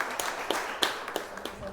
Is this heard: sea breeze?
no